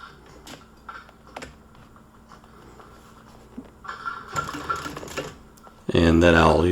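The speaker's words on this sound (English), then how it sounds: "I'll use the machine to run a stitch across the entire length" Sewing machine stitching upholstery for a car sun visor on a 1951 Shoebox Ford, a short run of needle clatter that swells near the end into a loud, steady motor whir, with speech heard earlier.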